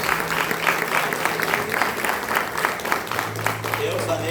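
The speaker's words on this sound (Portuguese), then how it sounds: "Você pode aplaudir o nome do Senhor Jesus." A church congregation applauds with dense, steady clapping that carries on for the whole stretch, loud and close, with a low sustained tone beneath it.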